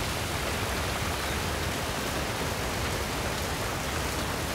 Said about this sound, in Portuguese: A chuva.